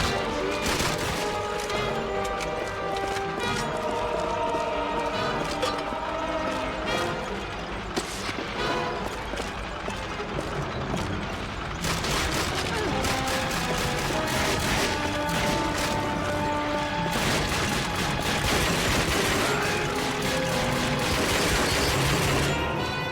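Loud, continuous gunfire and explosions from the video game Call of Duty: Finest Hour in the Western Africa campaign, with heavy booms and dense crackling shots under a steady music bed.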